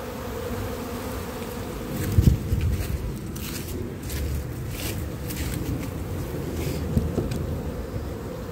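Honeybees buzz steadily in a dense swarm around a hive being reinstalled, a close, continuous drone with a few louder passes and light handling noises.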